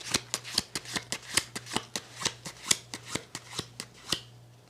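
A deck of playing cards being shuffled, a rapid run of about twenty crisp riffling snaps at a steady rhythm, close and fairly quiet, with no talking.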